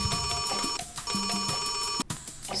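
An old-fashioned telephone bell rings loudly in repeated trilling bursts, with a brief break between rings and no talking.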